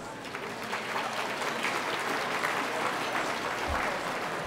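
Sustained applause from a dinner audience at a Public Policy Forum testimonial dinner honouring former prime ministers, dense and steady clapping filling the room for several seconds with no talk over it.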